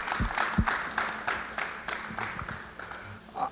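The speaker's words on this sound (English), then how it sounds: "anytime you can get a top recruit like Ryan, let's give a round of applause for him, man." A few people clap briefly at a team signing event in a sparse, uneven patter of separate hand claps, fading toward the end.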